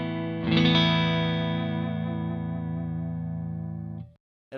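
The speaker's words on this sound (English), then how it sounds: "this is my clean tone on the neck pickup" Clean electric guitar tone from the neck pickup with no pedals, a single strummed chord ringing out sustained and bright for about four seconds before being cut off.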